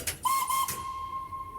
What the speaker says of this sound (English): we've got the magic whistle, which everybody wants to blow